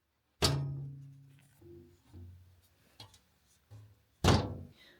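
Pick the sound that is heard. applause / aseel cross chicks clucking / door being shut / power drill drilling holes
door being shut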